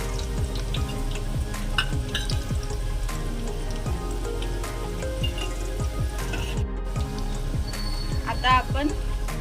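Ginger-garlic paste goes into chicken frying in a pan over medium heat, giving a continuous dense sizzle with scattered crackles and ticks, close and fairly loud, with a brief faint voice near the end.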